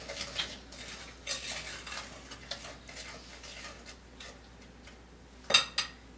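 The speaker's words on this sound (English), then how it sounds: "you want to mix them together so that it becomes a nice, more creamy batter." Butter and brown sugar being stirred into a creamy batter in a bowl, with soft scraping and intermittent clinks of a utensil against the dish, faint and close, ending in a couple of sharper taps.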